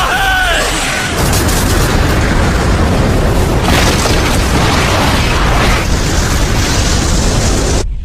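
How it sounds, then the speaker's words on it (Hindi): A massive explosion from the Naruto Shippuden anime erupts into a long, loud, roaring blast that keeps rumbling and crackling for several seconds, filling the whole mix. "एक धमाका है।"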